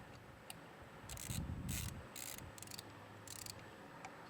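A torque wrench ratchets in short clicking runs while supercharger bolts are tightened to 88 inch-pounds on a 2024 Mustang GT, quiet and close, with rubbing mechanical noise between the bursts.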